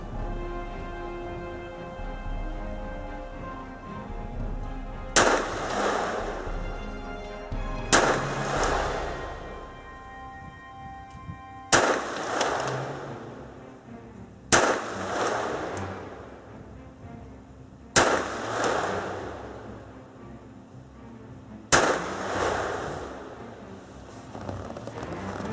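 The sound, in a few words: Colt 1908 Vest Pocket .25 pistol gunshots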